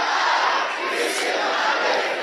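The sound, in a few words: church congregation shouting a prayer loudly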